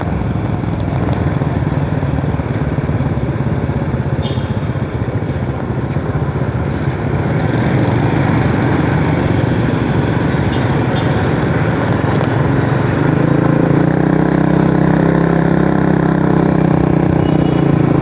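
Continuous engine drone of passing motorcycles and traffic on a street in Vietnam, loud and steady, with heavy wind rumble throughout.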